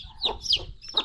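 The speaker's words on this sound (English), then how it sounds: "the other chicken was pecking on it" A chicken clucking close by, three short, sharp clucks in quick succession over a quiet background.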